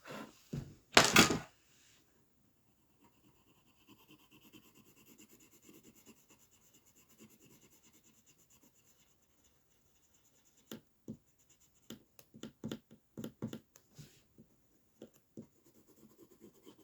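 Eraser rubbing on paper, a loud scrubbing burst at the start, then a long quiet stretch before a series of short, close, scratchy strokes in quick irregular bursts.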